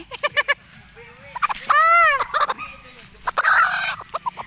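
A chicken about to be slaughtered squawks and cackles loudly up close, with a long rising-falling cry in the middle and short clucks around it.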